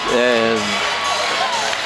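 The crowd at a high school boys basketball game cheers and shouts in a loud, sustained roar, with a whistle-like tone early on and a voice speaking over the noise.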